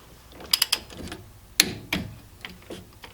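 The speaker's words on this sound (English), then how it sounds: "we're going to go around and torque all these guys to 30 foot-pounds." A torque wrench ratcheting bolts on a Dana 30 axle cover, a few quick clicks close by, then a pause and more scattered ratchet clicks and metallic knocks.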